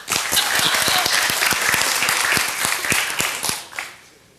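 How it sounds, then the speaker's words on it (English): Dense applause from an audience at an open day opening ceremony, honoring the event's sponsors; loud, continuous clapping with sharp individual claps standing out, fading away in the final second. "let's clap at the end so that the last one doesn't get tired claps"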